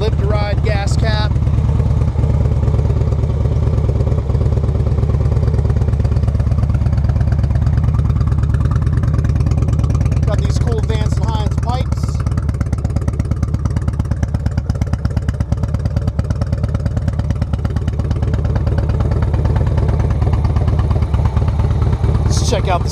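A 2006 Harley-Davidson Road King Classic with Vance & Hines pipes idles and revs loudly and continuously up close, its deep lumpy V-twin rumble swelling with a few throttle blips.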